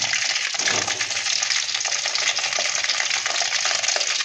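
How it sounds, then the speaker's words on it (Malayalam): Whole washed lemons, still wet, fry in hot sesame oil for an old-style lemon pickle, giving a loud, continuous crackling sizzle close by. "അപ്പോൾ ഇത് നാരങ്ങ മുഴുവനായിട്ട് ഇതിലേക്ക് ഇട്ട് കൊടുത്തിട്ടുണ്ട്."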